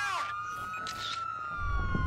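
Police sirens wailing in the open-world video game Watch Dogs 2, a rising and falling electronic tone close by, joined by a short burst of a second siren and a low rumble toward the end.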